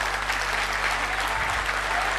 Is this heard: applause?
yes